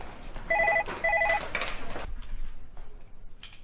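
A landline telephone rings twice in quick electronic trilling bursts, clear and near, followed by shuffling room noise in a Nollywood family home scene.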